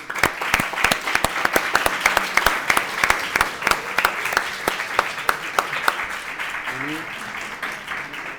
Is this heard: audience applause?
yes